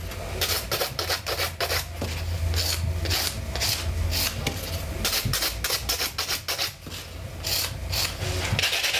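A nail file rasps back and forth over a gel or acrylic fingernail, loud and close, in quick repeated strokes with brief pauses between bursts and no talking.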